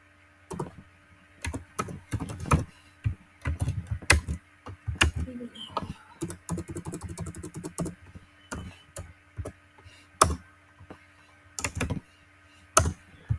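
Typing CSS code on a computer keyboard, bursts of close, crisp key clicks with brief pauses between runs of keystrokes, moderately loud and clear, with faint murmured speech underneath at times.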